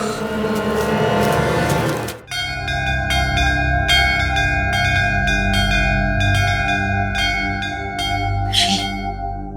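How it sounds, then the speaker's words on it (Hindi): A Shiva temple bell struck again and again in a quick, steady rhythm, loud and ringing, each hit layering over the lingering hum. "पारस शिवलिंग मंदिर की घंटी है।"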